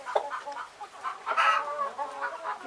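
Several young chickens cluck and chirp up close in a backyard kennel, a busy run of short, overlapping calls with no talking.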